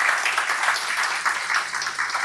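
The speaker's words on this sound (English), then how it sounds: "A round of applause for our speaker." A conference audience at a Salesforce event in Europe gives a speaker brief, steady applause, a dense wash of clapping lasting a couple of seconds with no voices over it.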